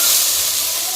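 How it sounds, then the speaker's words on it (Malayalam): Sliced onions sautéing in oil in a pan give a steady, close, loud sizzling hiss that holds evenly throughout with no talk over it. "നമ്മൾ ചിക്കനും ഒക്കെ ബീഫിനും ഒക്കെ സവാള വഴറ്റുന്നത് പോലെ തന്നെ നന്നായിട്ട് വഴറ്റിയെടുക്കാം"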